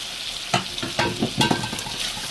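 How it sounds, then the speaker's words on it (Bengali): Tengra fish and eggplant cook in a pan, with a steady sizzle broken by several louder stirring scrapes and clatters, close and with no voices. "আমি রান্না করতেছি বেঙ্গল দিয়ে ট্যাংরা মাছ দিয়ে"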